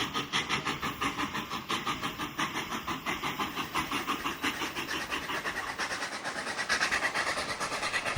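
A passenger train rolls past another train on the White Pass route in Alaska, a steady rhythmic clickety-clack of wheels on rails, a continuous rumbling roar that swells slightly toward the end.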